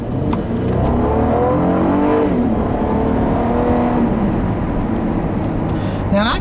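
A 2014 Acura TL's front-drive 3.5-liter V6 with a 6-speed automatic pulls hard under acceleration, its smooth engine note rising loud and close, with someone talking over it.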